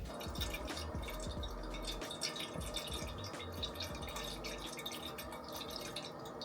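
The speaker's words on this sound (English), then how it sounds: "Now I'm gonna fill up my water bottle" A water bottle being filled, a continuous faint trickling and dripping of running water throughout, no talking.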